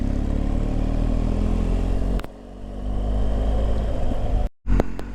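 A BMW 1250 GSA motorcycle rides off-road with a loud, steady engine drone and clattering road noise, then the sound dips briefly and cuts out sharply before returning.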